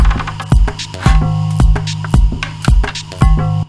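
An electronic track built in Ableton plays loudly with its kick drum moved off the beat, punchy thumps landing at uneven spots against sustained synth tones and a steady pulse.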